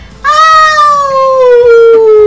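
A voice imitates a wolf howling as part of a children's telling of The Three Little Pigs: one loud, sustained, tonal howl that slowly falls in pitch and holds for about two seconds.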